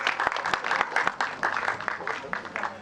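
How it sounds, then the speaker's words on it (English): A crowd at a Delhi film promotion event applauds the film's star cast, with scattered sharp claps over a busy bed of crowd noise in a short burst. "Can we have a huge round of applause for the entire star cast, please?"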